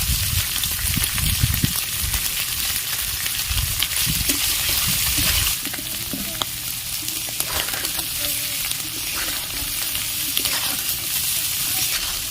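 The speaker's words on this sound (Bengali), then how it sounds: "একটু লাল লাল করে ভেজে নিতে হবে" Eggs coated with turmeric frying in a pan for a Bengali village-style steamed egg curry with potatoes, a steady loud close sizzle with stirring scrapes that continues throughout, with no talking.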